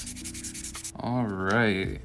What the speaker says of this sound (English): Now I'm gonna get even finer sandpaper.